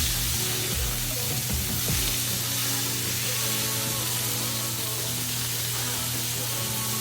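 Tenderloin steak searing in a pan to build a crispy crust, giving a steady, dense sizzle and hiss that stays even throughout, fairly close and moderately loud, with no talking.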